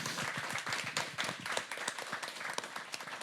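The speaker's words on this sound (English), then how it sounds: "So can we give Natalie another big round of applause," A Pride event audience gives a round of applause, a faint, busy patter of many hands clapping throughout.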